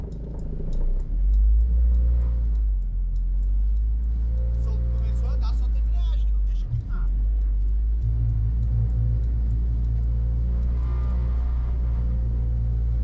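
A van engine rumbles low and heavy as it is driven and accelerated, with swelling revs under occasional talk and background noise, mostly a deep steady drone close to the cabin.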